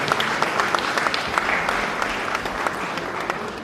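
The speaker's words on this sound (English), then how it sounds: "Let's give her a round of applause." An audience applauds the Director General of the Sierra Leone Broadcasting Corporation, producing continuous, dense clapping from a sizable crowd that holds steady and fades slightly toward the end.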